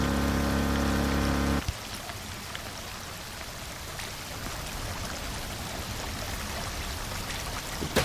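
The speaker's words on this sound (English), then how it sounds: "a lot of the water is coming back out of the pipe area" Water rushes from pumps and pipes in Drain Sim while a flooded parking garage is drained. A loud tonal hum stops after about a second and a half, leaving a steady broadband gush of flowing water.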